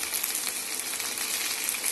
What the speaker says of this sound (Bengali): এখানে ভেন্ডি ভাজা হচ্ছে